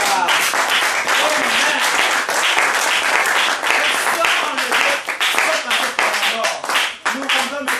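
A church congregation acclaims the Lord with loud, continuous clapping, dense and rhythmic from start to finish, with voices mixed in under the applause.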